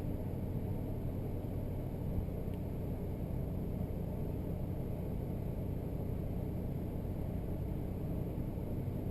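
A 1999 Nissan Maxima idles smoothly after an upstream left-bank oxygen sensor replacement, producing a steady, even low engine rumble and hum that stays constant and close throughout, with no voices.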